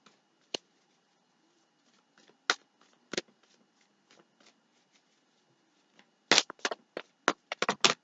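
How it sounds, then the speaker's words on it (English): A deck of tarot cards is shuffled by hand: quiet, isolated riffles and taps at first, then a quick cluster of crisp shuffling bursts near the end, close and with no one talking. "I'm going to give it 3 more shuffles."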